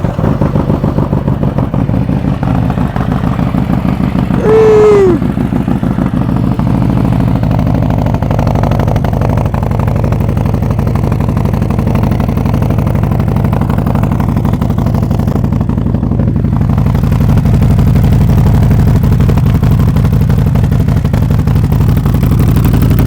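A Harley-Davidson motorcycle with an aftermarket exhaust idles with a deep, throaty exhaust rumble, loud and close, holding steady throughout with a brief higher squeal early on.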